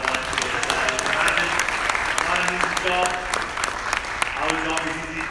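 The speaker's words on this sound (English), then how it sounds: "Give me a round of applause for the volunteers." A crowd at an artificial intelligence and robotics event applauds the volunteers, loud continuous clapping with some voices and cheers mixed in throughout.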